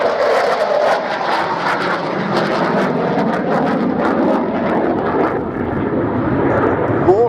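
A propeller aircraft makes a slow roll along the display line at the 2017 Biggin Hill airshow, its engine droning steadily and fairly loud throughout, with the pitch shifting slightly as it passes.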